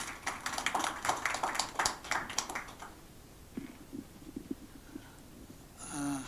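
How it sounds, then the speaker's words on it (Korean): A small audience at an indoor meeting gives brief, close applause for about three seconds. The clapping then stops and is followed by faint shuffling and quiet room noise. "다시 한번 박수로 모시도록 하겠습니다"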